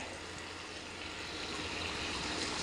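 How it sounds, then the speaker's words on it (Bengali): Water being poured into a pot of river pangas fish curry on an electric stove, a steady close rushing pour with no breaks and no talk over it. "পানি দিয়ে দিচ্ছি।"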